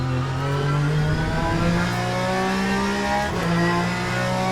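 A race car engine in the Le Mans Ultimate sim racing game revs hard and steadily, a loud close buzzing drone that rises and holds pitch with a brief dip midway.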